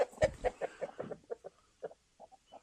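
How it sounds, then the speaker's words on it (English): Backyard chickens cluck in a quick, uneven series of short, close calls while being fed garden scraps such as celery pieces, growing sparser toward the end. "Give these to the chickens."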